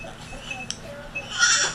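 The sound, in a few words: billy goat bleating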